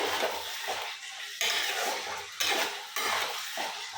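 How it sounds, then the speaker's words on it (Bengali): Paneer fries in a pan as it is stirred, with loud, rhythmic scraping strokes about every second and a half over a continuous sizzle, close up and without talk. "তো এটাও দিয়ে ভালো করে ফ্রাই করে নেবো, নাড়াচাড়া ভালো করে নেবো।"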